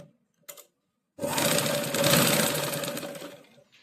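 A sewing machine runs a steady, loud stitching burst lasting over two seconds while sewing a back neck design on a blouse, preceded by a brief short whir.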